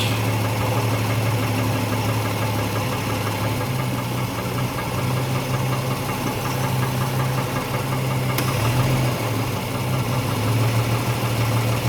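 A car engine runs steadily during a generator output and voltage regulator test, a close, continuous low idle hum with a rough, knocking vibration and a slight lift in revs near the end.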